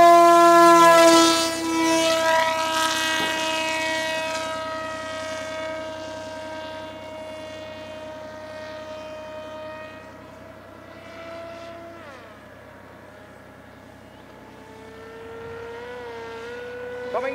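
Twin-engine foam RC plane, a DIY Zephyr-style build with counter-rotating propellers, droning steadily overhead with a layered harmonic whine that starts loud and fades gradually as it flies farther off, with no voices.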